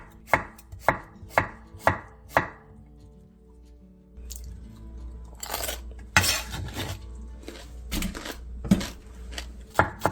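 Two cucumbers are cut lengthwise into thin diagonal slices on a cutting board: five sharp, evenly spaced knife knocks, then a quieter stretch of faster, clustered chops and board taps.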